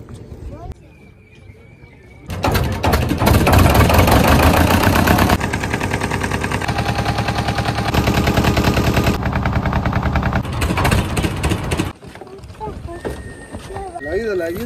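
A boat engine runs loudly and continuously on the crossing to Mousuni Island, a dense rattling drone that cuts in abruptly after a quieter start, with brief pauses and shifts in tone, close by.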